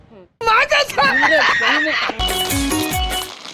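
A rooster crows, a drawn-out, wavering call heard close and fairly loud, followed by a busier stretch of mixed sound in the closing second or so.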